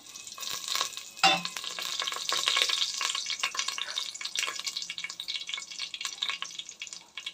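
Whole spices fry in hot oil, giving a steady, bright sizzle and crackle with a stirring clatter near the start. The sound is close and fairly soft, with no talking.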